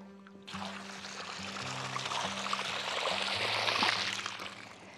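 Water gushes steadily from a solar-powered pump used for farm irrigation in a remote Palghar village, a rushing pour that starts abruptly and builds in loudness, with a low droning hum underneath.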